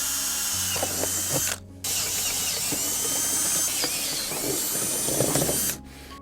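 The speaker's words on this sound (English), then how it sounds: "I'm just going to drill a hole in here in this." A power drill whirs steadily and loudly while drilling a hole in wood, briefly cutting out once before spinning up again, with faint mechanical clicks underneath.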